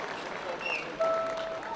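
Guests applauding at a circumcision ceremony, a soft diffuse patter of clapping from a crowd, fairly faint, with a voice speaking over it.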